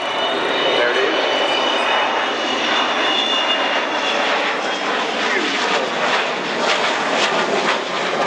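Avro Vulcan XH558 delta-wing jet bomber passing the crowd at the Farnborough Airshow, a loud, broad roar of jet engines that stays strong throughout, with a commentator talking over it.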